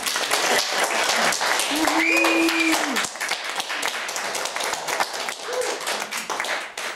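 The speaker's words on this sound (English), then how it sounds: "let's give a big round of applause for Mr. Andrew Long." Clapping from a library show audience welcoming a performer to the stage, somewhat sparse and uneven hand claps with a few tonal voices and sounds mixed in, thinning out in the second half.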